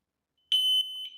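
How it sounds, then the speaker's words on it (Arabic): A motorcycle anti-theft alarm gives a sharp, high electronic beep, then two shorter beeps in quick succession, loud and close against silence. "يعطيني انذار باللي راه غيخدم"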